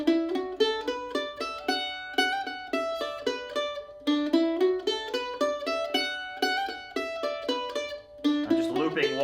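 A mandolin picks a quick, repeating phrase of Saint Anne's Reel in steady rhythm, played solo and close, looping the same short passage.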